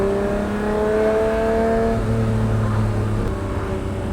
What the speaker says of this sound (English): The whole car vibrates. It's noisy. You hear that giant V12 behind you.